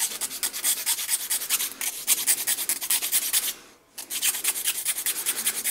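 Round file worked over G10 composite: fast, rhythmic rasping strokes, loud and close, with a short pause midway before the filing resumes.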